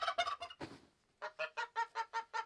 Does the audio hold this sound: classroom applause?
no